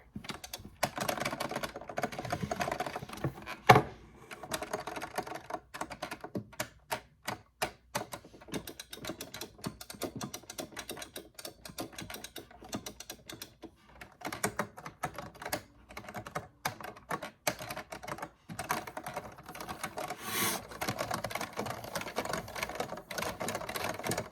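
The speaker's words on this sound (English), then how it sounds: "I could just do the clicking and the buttons and it probably sound really good." Arcade fight stick buttons clicking in rapid, uneven bursts of sharp taps for about 24 seconds, close and fairly loud, with no voice.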